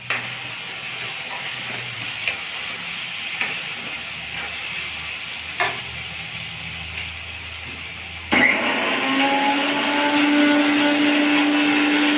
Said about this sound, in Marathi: खोबर आणि आलं लसणाची पेस्ट त्यातच घालून बारीक करणे